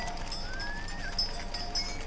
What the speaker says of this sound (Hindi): ये बकरियां है.